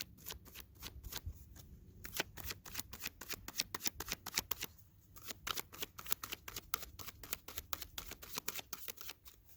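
Tarot cards being shuffled and drawn, a long run of close, crisp riffling and flicking bursts in quick irregular rhythm, loud against a quiet background with a couple of brief pauses.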